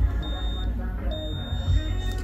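A multimeter gives high continuity-test beeps while probing a Lenovo L340 laptop motherboard during a backlight repair, several short steady tones and one longer one over low background rumble.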